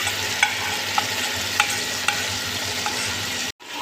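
Masala with tomatoes and tamarind fries in a pan, a steady close sizzle broken by a few sharp taps of a spoon against the pan, ending in a brief cut of near silence.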